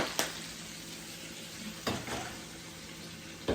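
Seasoned fajita meat is stirred in a pan, heard as a faint, low sizzle with three sharp scrapes or clanks spaced across the stretch and no voices.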